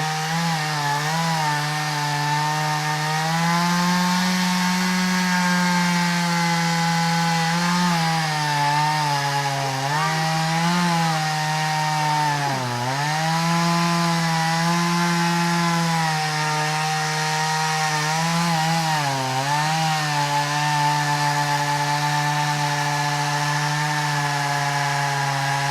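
A chainsaw cuts through wood in a steady, continuous drone for about half a minute, its engine pitch dipping and recovering as the chain bites under load. The saw is loud and close, with no voices.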